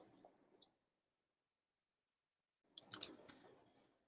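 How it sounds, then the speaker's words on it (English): Quiet keyboard typing up close: a brief patter of keystrokes, a stretch of silence, then a quick flurry of clicky taps. "I can't talk while I'm typing."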